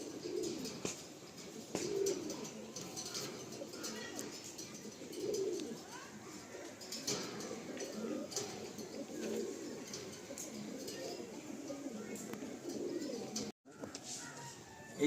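Pigeons coo continuously inside a loft, a soft layered chorus of repeated throaty calls with faint voices in the background.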